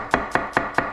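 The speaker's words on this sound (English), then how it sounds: "This onion I'm gonna kind of thinly sliver." A knife chops through an onion on a cutting board, cutting rough slivers for roasted pumpkin soup, with five crisp, evenly spaced chops in quick rhythm, close and clear.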